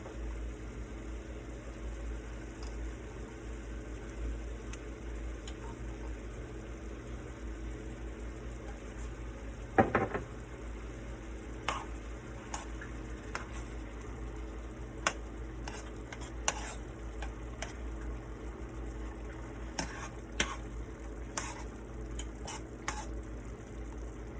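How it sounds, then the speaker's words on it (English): Minced garlic frying in a pan beside steak and seafood, a steady low sizzle throughout with a sharp clatter near the middle and scattered small pops and ticks. "Then we're gonna toss some minced garlic in there."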